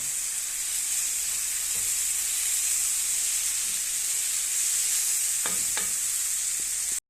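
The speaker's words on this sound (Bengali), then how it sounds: "তো এটা আমি চামিচ দিয়ে ভালো করে লাইড়া নিব।" Leafy greens (shak) fry in a pan with a steady bright sizzle, and a spoon scrapes and stirs through them, a few clinks standing out near the end.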